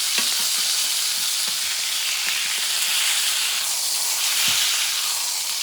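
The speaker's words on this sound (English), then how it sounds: "I'm going to cook the fat for about 30 seconds, getting that nice looking crispy look and taste." A T-bone steak's fat edge sears in a hot pan, giving a steady, close frying sizzle with a constant hiss and scattered crackles and pops throughout.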